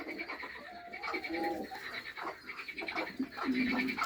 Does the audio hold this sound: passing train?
no